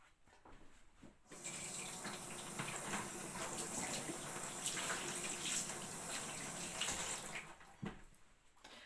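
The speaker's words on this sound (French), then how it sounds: "vous rincez directement en fait au niveau de votre lavabo avec beaucoup d'eau" Water runs steadily from a bathroom sink tap for rinsing, starting abruptly, flowing for about six seconds, then shutting off into quiet room tone.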